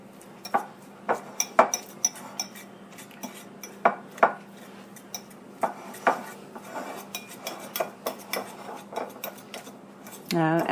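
A spoon mixing potato stuffing in a bowl for stuffed baked potatoes, making repeated clinks and scrapes against the bowl at an irregular rhythm, fairly close, with a louder scraping burst at the end.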